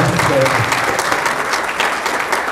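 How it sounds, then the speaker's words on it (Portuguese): An audience at a public hearing on inclusion and accessibility applauds steadily throughout, a dense, even wash of clapping with a voice briefly audible underneath. "Então uma salva de palmas para o Roberto aqui"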